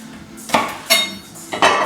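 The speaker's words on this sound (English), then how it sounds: "we're almost coming to the end of this wonderful process over here called chopping the chili" Knife chopping chili for a homemade Tiger Chilli Sauce, giving three sharp, clanking chops on a board at uneven intervals, close and fairly loud.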